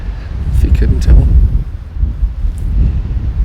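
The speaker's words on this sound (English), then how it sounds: "it's pretty windy, if you couldn't tell" Gusty wind buffets the microphone in open backcountry, a loud low rumble that swells and ebbs over several seconds, with brief bursts of rustling.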